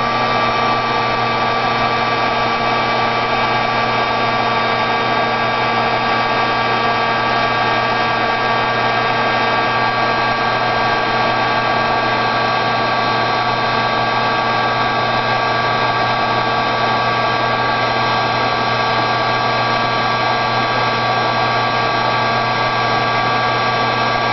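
A heat tool blows a constant, even whirring hum while warming a tile for embossing, close and loud without pause, no speech.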